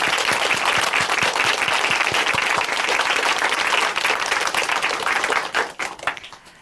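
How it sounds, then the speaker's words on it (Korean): Warm applause from a studio audience on a church testimony program, steady dense clapping for several seconds that thins and fades out near the end, with no talking over it. "문홍기 형제님의 앞날 같이 박수로 응원해 드리겠습니다"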